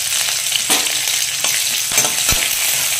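Chopped onions and curry leaves frying in hot oil over popped mustard seeds for a raw banana fry: a steady close sizzle with a few sharp crackles and stirring knocks.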